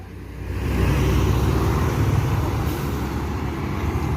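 A bus idles and rolls through a busy bus terminal, a low steady engine rumble that swells in the first second and then holds with faint background noise.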